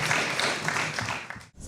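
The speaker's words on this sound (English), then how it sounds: "Audience, it's appropriate at this time to join me in a round of applause." Audience members at a local candidate debate clap together in a short burst, the applause moderately loud before cutting off abruptly near the end.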